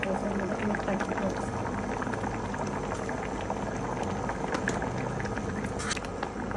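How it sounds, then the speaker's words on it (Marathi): Tamarind curry (amti) made with tamarind water, salt and a wild leafy vegetable bubbles steadily in a pot on the stove, giving a dense, continuous boiling roar with scattered pops throughout. "चल तर बघू शकता मस्त आता आमटीला उकाल आले."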